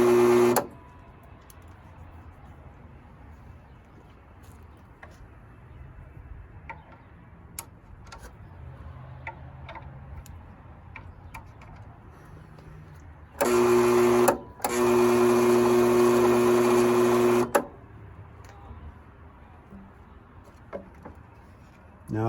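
Motor of a Bosch table saw with a faulty speed control, running slowly and backwards, giving two short bursts of steady electric whine, one brief and one lasting several seconds, between quiet stretches of faint ticks.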